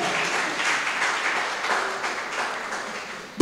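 Church congregation applauding together to acclaim God during a sermon, a steady wash of many hands clapping at moderate distance that holds evenly for several seconds.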